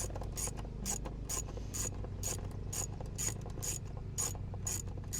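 Rapid ratcheting clicks from a hand tool backing out the four screws on a C4 Corvette's factory setup, a steady rhythmic burst of clicks repeating close by over a low constant hum, no talking.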